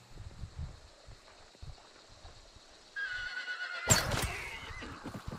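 A horse in the video game Hunt: Showdown lets out a loud, close whinny after a quiet stretch, over a steady background hiss and faint clopping.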